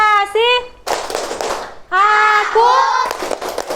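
A classroom of children doing a rhythmic concentration clapping game led by their teacher: bursts of sharp group claps alternate with sung and chanted voices, loud and close.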